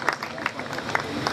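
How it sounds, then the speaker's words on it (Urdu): A church congregation claps for a testimony, scattered uneven applause of moderate loudness with a few sharp individual claps. "آئیے ابراہیم کے لیے تالیاں بجائیں، بہت بڑی گواہی اس نے کی ہے"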